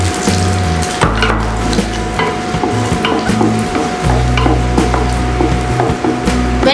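Three minced garlic cloves fry in melted butter, giving a steady, close sizzle with stirring sounds over a constant background hum and no talking.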